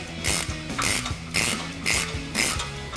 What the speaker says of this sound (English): Now we're going to get our adjuster screw back to its original measurement.